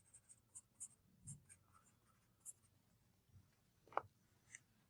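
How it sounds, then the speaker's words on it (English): Pen writing a password onto paper, with a few faint scratchy strokes spread through quiet room tone and one sharper tap near the end. "And I'm going to write my password down."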